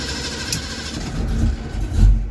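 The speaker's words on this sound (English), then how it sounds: "the starter sounds a lot healthier" A hot Mustang engine cranks on its starter, a short low churning whir close by that builds in loudness over about two seconds.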